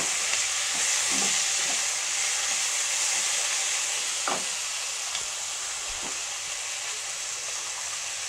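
Finely chopped tomato goes into a pan with sautéed onion for a Marathi cabbage and peas bhaji, giving a soft, steady sizzle with a few brief stirring scrapes and no talk.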